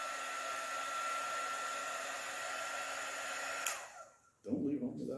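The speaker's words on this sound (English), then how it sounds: "We're going to have to hit that with the heat gun again." A heat gun blows a loud, steady whoosh onto the stiff hinged joint of a Goliath action figure, then cuts off near the end, followed by a brief handling noise.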